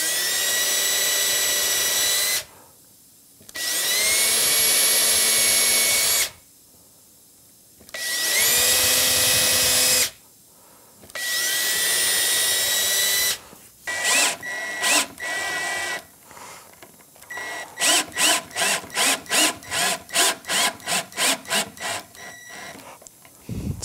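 Drill boring holes through a Telecaster-style guitar body with a 7/64 inch bit, in four long steady whirring bursts separated by pauses, then a run of short rapid pulses near the end.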